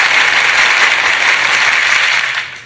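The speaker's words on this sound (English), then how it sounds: "give yourself a hand" An audience applauds with dense, loud clapping from many hands, steady for about two seconds before fading out at the end.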